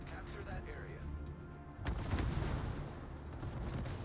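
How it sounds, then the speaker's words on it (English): Naval gunfire from the cruiser Worcester in a battleship video game, a dense rumbling barrage of shots that hits hard partway through and keeps rolling, with someone talking over it. "I'm taking a little bit of fire from the Worcester, I'm guessing, by the look of those shots"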